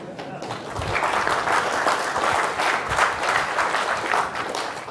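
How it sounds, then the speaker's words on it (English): A conference audience at a tech event breaks into steady, dense applause that swells and holds for several seconds at moderate loudness, with no talk over it. "there's this thing called applause"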